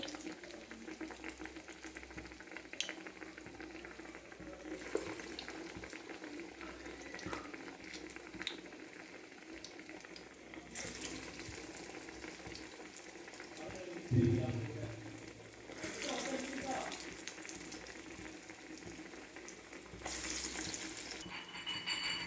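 Black-eyed pea vadas (alasanda garelu) frying in hot oil give a steady bubbling sizzle that swells into louder hissing bursts, while a person talks now and then.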